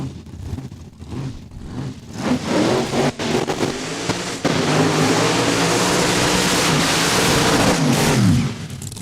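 A drag race car fires up at Saskatchewan International Raceway, its engine roaring loud and close, rising through revs and holding a steady, harsh drone for several seconds before dropping off.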